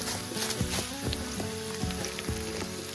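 Chili sizzling and frying in hot oil in a pan at an outdoor night cookout, a steady crackling hiss with a few scraping stirs, close and alone without talk.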